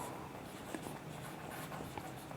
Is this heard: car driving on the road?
no